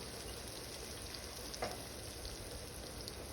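Tomatoes with turmeric and Agri masala sauté in hot oil for a crab curry, a steady soft sizzle with a brief stir or scrape partway through, close and fairly quiet.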